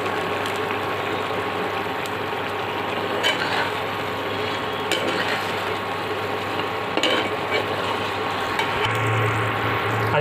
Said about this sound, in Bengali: দেখুন বন্ধুরা, ফুটছে।